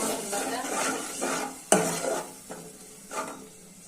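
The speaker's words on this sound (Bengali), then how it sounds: "আগে একটু ঝোল দিয়ে মশলাটা কষা নিতে" Spice masala being sautéed in a pan with a little gravy, a steady sizzle broken by several spatula strokes and one sharp metallic clack against the pan.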